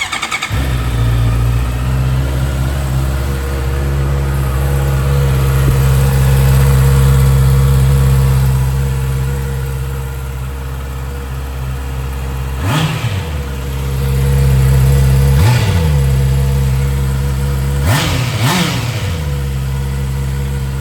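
A car engine runs steadily at idle, close and loud, then is revved in three short bursts that climb and fall back near the end.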